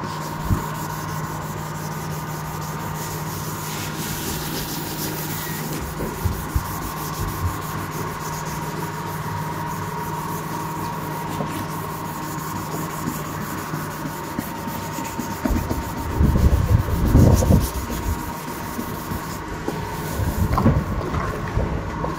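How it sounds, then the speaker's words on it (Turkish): Hand sanding of a car headlight lens with 1200-grit sandpaper: a steady, close scratchy rubbing with no talk, growing louder and rougher in scrubbing strokes toward the end. "Önce bunu 10 dakika, 15 dakika bir zımparalayacağız."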